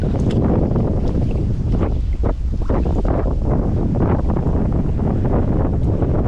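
Strong wind at sea roars steadily across the microphone with a dense, buffeting rumble, accompanied by faint water and fishing boat noise, with no talking.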